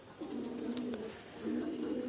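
Pigeons in a loft on a rainy morning give two soft, close coos, one at the start and another near the end, against a quiet background.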